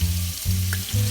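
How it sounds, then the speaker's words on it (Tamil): Sliced large onion fries in hot oil for a hotel-style white kurma, producing a continuous close crackling sizzle over a low steady hum, with no voices. "இது பொரிய ஆரம்பிக்கும் போது நம்ம பெரிய வெங்காயம் வந்து ஒரு பெரிய வெங்காயம் போடுறேன், ஸ்லைஸ் பண்ணது"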